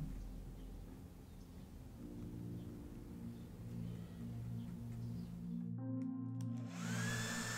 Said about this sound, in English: you can always use a hair dryer and go at it just to harden it quicker